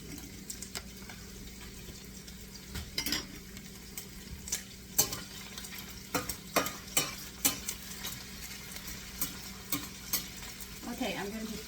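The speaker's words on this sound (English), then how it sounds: "I'm going to be frying this bacon up till it's crispy" Bacon fries in a pan, giving a soft, continuous sizzle with faint pops and occasional stirring scrapes. The sound stays quiet and close, with no voices.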